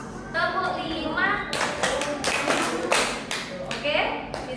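Children in a primary classroom clap their hands in unison as part of a counting clap game, several sharp claps in quick rhythmic bursts, with a teacher's voice and child chatter heard between them.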